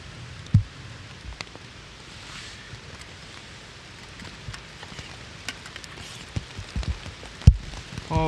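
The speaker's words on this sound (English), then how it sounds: "Oh god, the rain's coming down hard." Heavy rain falls in the woods at a camp, a soft continuous patter with scattered louder drips and knocks striking nearby surfaces, and no voices.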